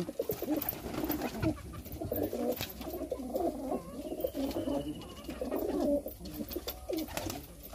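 Madrasi pigeons coo in a low, steady rolling murmur through the whole stretch, with some faint background noise around them.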